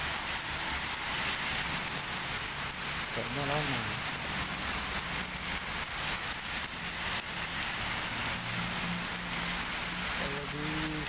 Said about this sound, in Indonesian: Masih hujan kawan,